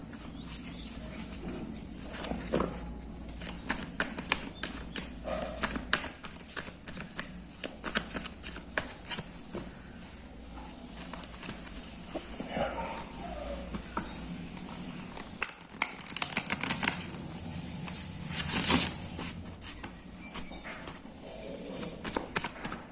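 Tarot cards are shuffled and handled up close in a long run of quick, crisp riffling flutters and soft slaps, repeating steadily, with brief louder bursts of card noise.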